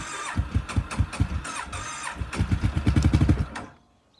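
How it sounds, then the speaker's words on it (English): A Kawasaki KFX700 ATV engine cranks in rapid rhythmic chugs and sputters, nearly catching and building louder before cutting out abruptly near the end. "Pretty close to running here."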